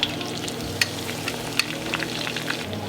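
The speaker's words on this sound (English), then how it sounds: "see how that's starting to sizzle right away?" Chicken sizzles steadily in hot oil, a continuous crackling hiss with a few sharper pops and spits, close by and without talk.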